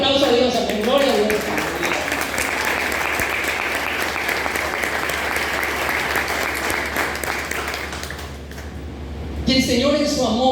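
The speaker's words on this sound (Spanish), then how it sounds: "Dale el aplauso a Dios" A church congregation breaks into sustained, dense applause, loud and continuous for several seconds before fading, with a voice speaking at the start and again at the end.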